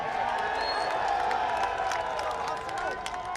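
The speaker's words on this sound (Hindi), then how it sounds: "हमारे सियासी कारकुन पाकिस्तान तहरीके इंसाफ के लिए बहुत सारी तालियां।" A protest rally crowd applauds and cheers for PTI, with continuous clapping and shouts spread through the gathering, steady and fairly loud, with voices mixed in throughout.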